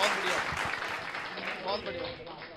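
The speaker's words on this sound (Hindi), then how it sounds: "जोरदार तालियां हो जाए" Audience applause at a Hindi spoken-word stage event, a fairly faint wash of clapping under a voice talking over it throughout.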